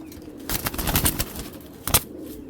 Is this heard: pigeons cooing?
yes